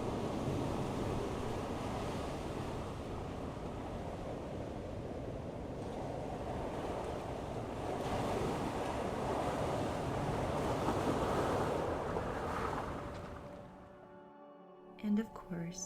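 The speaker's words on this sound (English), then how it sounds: "to ocean waves rolling on the shore." Ocean waves roll onto a shore in a steady, broad wash of surf with light wind noise. The sound swells slightly toward the end, then fades out into a few soft knocks.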